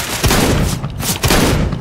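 Loud bursts of rapid video game gunfire crackle close by, two or three heavy volleys separated by short gaps, with booming low thuds under them.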